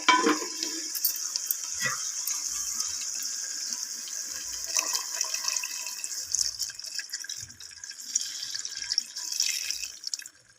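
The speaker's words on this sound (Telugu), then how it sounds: "ఇలా మగ్గుతున్నప్పుడు మనం దాంట్లో కొద్దిగా నీళ్ళు పోసుకోవాలి" Water pours steadily into a pot of simmering fish curry (gorasalu iguru) in a home kitchen, a continuous close splashing stream with a few soft knocks, no talk.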